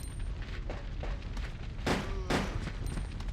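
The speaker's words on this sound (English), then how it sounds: "I love the double pistols." Double pistols firing in Resident Evil Code Veronica X, a handful of quick sharp shots in a loose burst, with two louder blasts near the middle over a quiet game background.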